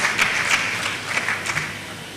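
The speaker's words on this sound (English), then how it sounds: "Applause for the Dean Faculty of Education for this excellent presentation." An audience at a university convocation ceremony claps in a steady, moderate round of applause that sounds somewhat distant and fades slightly toward the end.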